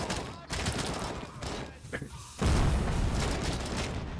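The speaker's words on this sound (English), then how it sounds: "that punchy RoboCop headshot sound." Punchy headshot gunfire in RoboCop: Rogue City: a volley of sharp, booming shots with heavy low-end impacts, the loudest cluster landing near the end, close and forceful.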